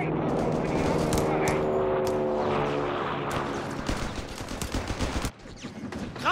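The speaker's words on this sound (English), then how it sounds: "MG fire incoming!" Machine gun fire in Company of Heroes 3 multiplayer combat with the Afrika Korps, loud rapid bursts layered over engine rumble and battle noise, giving way to scattered shots and impacts, with voices shouting over it.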